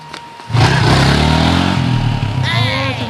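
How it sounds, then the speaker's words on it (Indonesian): A motorcycle engine roars up loudly and passes close by, its rumble sustained under excited voices, with a brief high whine near the end. "Awas motor."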